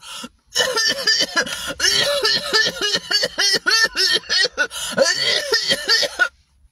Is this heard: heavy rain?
no